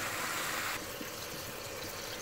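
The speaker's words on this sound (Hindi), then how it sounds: "यहाँ पे कुकर में जो मैंने लिया था चना उसी में मिक्स करके और थोड़ा सा पानी डालूंगी।" Water being poured into a pressure cooker holding chickpeas mixed with spices, a steady close gushing pour that eases to a softer trickle partway through, with no voices.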